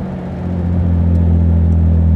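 A prewar-style Jaguar SS 100 sports car engine rumbles steadily in a low, loud drone, building slightly as the car passes close by, with no one speaking.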